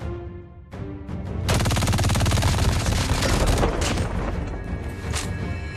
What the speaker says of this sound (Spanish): esta ametralladora ligera es un monstruo